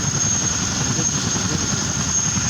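A helicopter engine runs with its rotor blades turning, a steady close mechanical whir and rumble with a thin high whine, continuous and unchanging over the short stretch.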